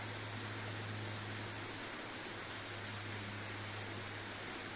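Steady broadband rushing of falling water, constant and unbroken, from the Faillitoux waterfall in Cantal heard from nearby, with a low hum beneath.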